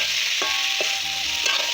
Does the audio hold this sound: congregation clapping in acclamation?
no